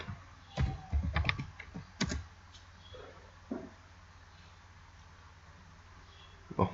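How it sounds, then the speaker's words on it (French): Typing on a computer keyboard: a quick cluster of close key clicks and taps at the start, then a few scattered keystrokes separated by quiet pauses, with one final tap at the end. "Nous allons taper ForgeJBoss Download."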